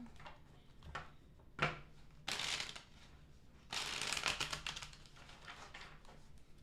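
A tarot deck is shuffled close by: a few sharp taps and snaps, then two riffling bursts of rapid card flutter, quiet and without talk.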